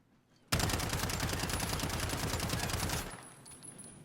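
A Striker .45 (UMP45) submachine gun fires in a video game, one unbroken burst of rapid automatic shots lasting a few seconds at close range, then cut off abruptly.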